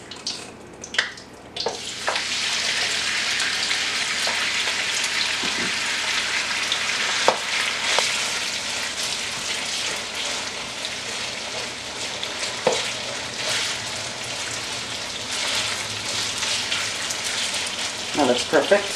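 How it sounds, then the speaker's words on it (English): Marinated steak for beef and broccoli drops into a hot pan and sizzles loudly and steadily up close, with occasional stirring clatter over the continuous frying hiss. "we're going to add our steak that we prepared in the marinade."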